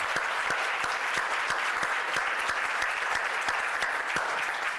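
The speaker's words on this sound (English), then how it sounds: "So let's give her a round of applause" Applause rolls through a corporate town hall audience as a new associate vice president is introduced, a steady, even wash of many clapping hands with sharper individual claps standing out.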